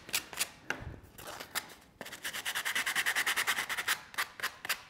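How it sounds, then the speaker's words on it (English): Close-up rhythmic light sanding of burrs and edges on a mold case, short scratchy strokes at first, then a quick run of regular back-and-forth rubs, fairly loud with no talking. "Like to do some light sanding, just to clean up burrs and edges"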